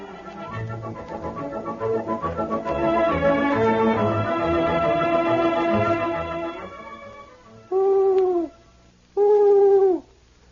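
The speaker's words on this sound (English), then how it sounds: "the owl is a wise old bird" An owl hoots twice near the end, two clear, separate, wavering calls that follow a passage of orchestral music in an old radio adventure drama set in the Yukon.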